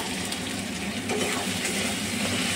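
Tomatoes sizzle in a pan while cooking down for a chicken curry, a steady, fairly soft frying hiss with no pauses.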